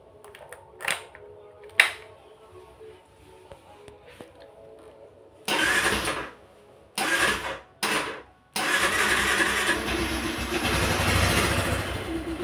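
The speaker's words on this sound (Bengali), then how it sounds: "সাউন্ডটা কেমন আপনাদেরকে দেখাবো, এবং একটু চালিয়েও দেখাবো।" A motorbike engine cranks through several short bursts of starter attempts before catching, then settles into a loud, steady idle close by.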